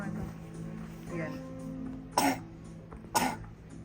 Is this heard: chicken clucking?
no